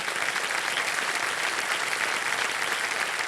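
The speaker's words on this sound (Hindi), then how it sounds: "एक बार जोरदार तालियां महेश जी के लिए बज जाए।" Dense, steady studio audience applause on a Hindi TV quiz show set, cheering a contestant with sustained, even clapping at full level throughout and no one speaking.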